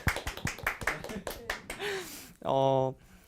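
Scattered, sparse hand claps from a small group at an online-broadcast ICT internship event, a few sharp slaps mixed with a speaking voice, ending in a sustained synthetic tone.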